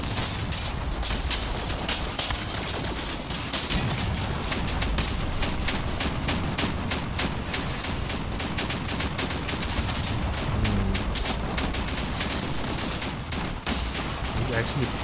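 Continuous rapid full-auto fire from Prometheus V plasma emitters in the Crossout vehicle combat game, a dense, steady stream of shots running without a break, with a voice talking over it.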